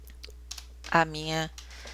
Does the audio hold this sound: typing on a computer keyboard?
yes